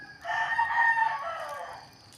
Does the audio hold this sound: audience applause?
no